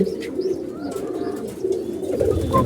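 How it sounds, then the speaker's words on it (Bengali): Pigeons kept in a loft coo close by, a few low rolling calls repeating over a constant low hum. "আমাদের কবুতরগুলা"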